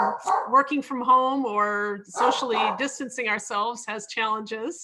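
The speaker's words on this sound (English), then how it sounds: "And you can hear my dog barking." A pet dog named Zeus barks at home, its barks mixed in with a person talking steadily at close range.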